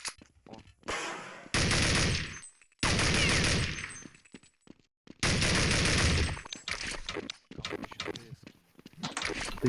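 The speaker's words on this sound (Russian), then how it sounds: "Лех, стрельба здесь, кстати, прикольная" Gunfire in Counter-Strike 1.6 during a 5v5 match, several loud bursts of rapid automatic shots broken by short gaps, with quieter game noise between the bursts.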